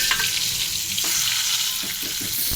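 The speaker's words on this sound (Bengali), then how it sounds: "তেলটা হয়ে গেছে, আলুগুলো আমি লাল লাল করে ভাজবো।" Potatoes frying in hot oil seasoned with cumin and bay leaf, a loud, dense, continuous sizzle close by with faint stirring underneath.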